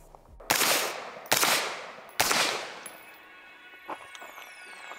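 Three sharp suppressed shots from an LWRCI IC DI rifle crack out at a steady pace on an outdoor range, each followed by a short ringing decay, then a fainter pop near the end.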